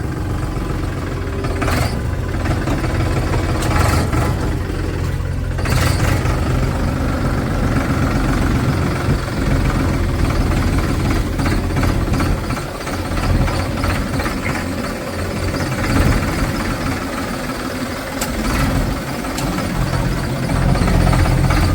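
A tractor engine idles loudly and steadily for the whole stretch, a deep continuous rumble with a few faint clatters on top, on a farm.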